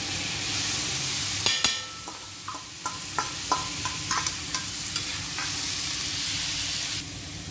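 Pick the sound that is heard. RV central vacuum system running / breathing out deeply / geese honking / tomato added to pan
tomato added to pan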